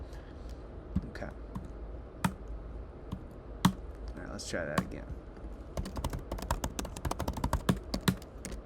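Computer keyboard keys pressed on a PC during a bare-metal interrupt test, producing sharp clicks, scattered at first and then a quick run of taps near the end, with someone speaking briefly over them.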